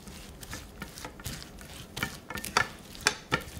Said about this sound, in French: on mélange délicatement pour pas casser, hein, les amandes, évidemment. Voilà, tout doucement comme ça avec la cuillère en bois